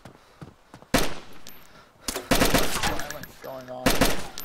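Repeated bursts of video game gunfire, several loud broadband volleys separated by short gaps, with players talking over the shooting.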